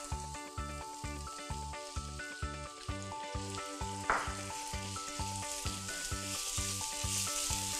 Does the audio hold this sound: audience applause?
no